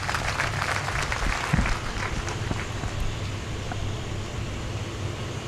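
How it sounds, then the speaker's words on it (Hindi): An audience applauds hospital faculty and management at a Jain community gathering at a Ludhiana hospital, a dense, steady wash of clapping over a low hum of fans or air conditioning. "हमारी मैनेजमेंट के लिए एक बार आप ताली बजाइए करें"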